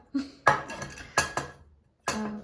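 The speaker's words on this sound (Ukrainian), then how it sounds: "Це такий посуд похідний. Зараз відкрию вам покажу." Camping cookware set with a frying pan handled up close, several sharp metallic clanks and rattles in quick bursts with short gaps between them, nothing else heard.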